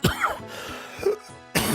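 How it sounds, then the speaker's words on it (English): A person coughs and clears their throat in a few short, rough bursts, loud and close, with brief quiet gaps between them. "A healthy amount of coughing"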